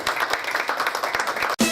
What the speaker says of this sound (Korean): 우리 뜨거운 박수 주셨으면 대단히 감사하겠습니다